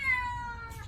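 A baby kitten gives one short, thin, high-pitched meow close by, calling for its mother, fading out with no talk around it.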